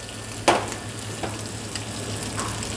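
Chopped black mushrooms drop into a hot pan, giving one sharp sizzle burst followed by a steady low frying hiss with a few faint stirring taps, no voices.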